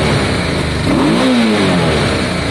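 A Honda Deauville motorcycle engine, just after a carburettor clean, revs up sharply close by, with the pitch rising then falling back in one smooth throttle blip over a loud, steady engine drone.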